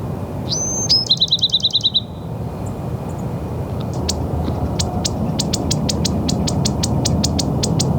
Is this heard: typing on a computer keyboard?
no